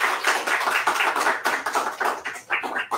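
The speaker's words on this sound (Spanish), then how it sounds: "por favor reciban con un fuerte aplauso a la profeta" A poetry slam crowd in Cali claps loudly for the newly announced winner, dense close-up applause with pulsing peaks that fades slightly toward the end.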